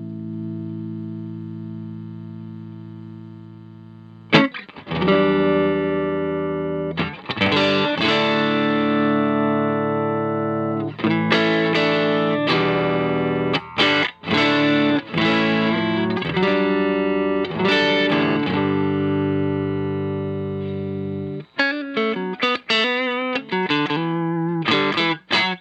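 An electric guitar plays through a CMAT Mods Signa Comp compressor pedal, with a held chord followed by evenly sustained strummed chords and single-note phrases, steady in level throughout.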